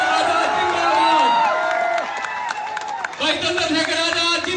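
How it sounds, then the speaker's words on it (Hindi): A rally crowd cheering, whooping and clapping in welcome for Chandrashekhar Azad, a continuous loud roar of many voices with scattered claps, while an announcer's voice speaks over the noise. "जोरदार तालियों से स्वागत करें"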